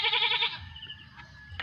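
A pet goat gives one loud, close, wavering bleat lasting about half a second, followed by quieter rustling and a faint tonal hum.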